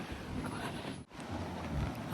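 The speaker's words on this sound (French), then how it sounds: "Non, il y a trop de vent." Strong wind buffets the microphone outdoors on a hot day, a constant loud rumbling roar that cuts out for a moment before surging back.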